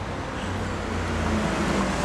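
Road traffic rolls past in a continuous broadband roar with a low engine hum rising slightly near the end, steady and fairly close, without any talking.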